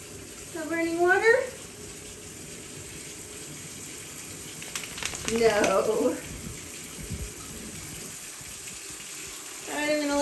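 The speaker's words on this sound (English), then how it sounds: "Running water. You excited about running water?" Water runs from a tap after a plumbing repair during a house renovation with a clawfoot tub, making a steady hiss throughout. Short bursts of speech break in over it at the start, middle and end.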